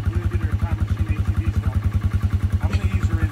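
An Arctic Cat DVX 250 ATV engine idles just after starting, a steady, rapid low-pitched putter with even pulses, close and fairly loud, with faint voices in the background.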